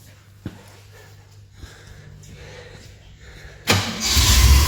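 Holden VC Commodore engine cranking and catching at about 3.7 seconds, then settling into a loud, rough idle after sitting unused for months with a freshly fitted fuel pump; quieter mechanical clicks and rattles come before it.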